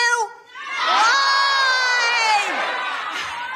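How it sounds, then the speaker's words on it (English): A political event crowd erupts in loud sustained shouting and cheering in answer to a question from the stage, a dense roar of many voices that swells and holds for several seconds. "And let me ask the crowd, what did Trump do?"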